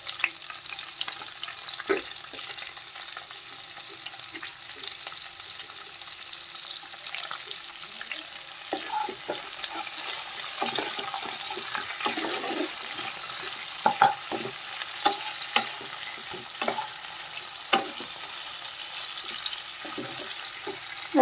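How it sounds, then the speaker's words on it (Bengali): Chopped onions fry with bay leaves in a pan for a poppy seed chicken dish, giving a steady sizzle with scattered scrapes and clicks of stirring, close and moderately loud throughout. "কারণ পেঁয়াজটা একটু ভাজা হবে।"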